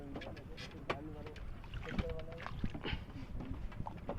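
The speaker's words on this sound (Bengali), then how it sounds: "এই যে আমাদের এই ছোট ভাই নৌকা বাইতেছে গাইস" A small wooden boat rowed across a baor lake in Jessore, soft paddle splashes and knocks of the oars, with faint voices and a few bird calls nearby.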